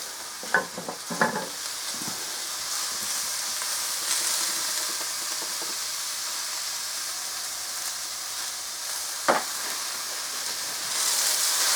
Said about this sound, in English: it's the water on the leaves that's making all the noise